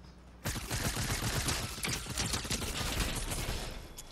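Rapid gunfire in the game Fortnite erupts suddenly and keeps going as a dense, loud barrage of overlapping shots and mechanical clatter, with no voices.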